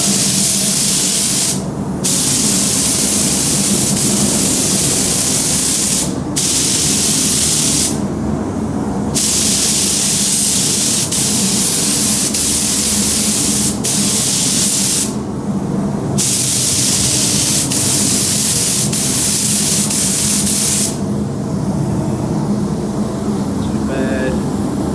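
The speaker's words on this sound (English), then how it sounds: "Let's lay down some clear coat." Clear coat sprayed onto a Traxxas Maxx RC car shell in long, loud, hissing bursts, briefly cut off by several short pauses before the spray trails away near the end.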